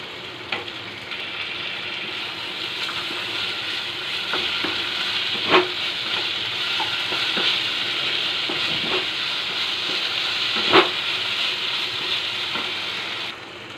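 Chili and garlic paste stir-fries in a pan for a Bengali kochuri dish, a steady close sizzle with occasional scraping stirs and clinks, no voices.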